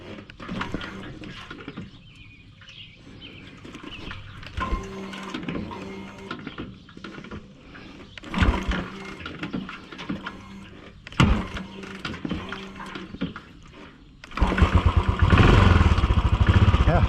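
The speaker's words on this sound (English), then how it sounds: "let's see if we can kickstart it." A Royal Enfield 535 Continental GT single-cylinder motorcycle is kickstarted, with repeated mechanical clunks and thumps of the kick lever before the engine catches and settles into a loud, close, rapid thumping idle at the end.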